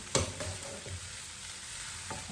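Quiet sizzling in a hot wok with the scrape and clatter of a utensil stir-frying egg, a few sharp clinks scattered through.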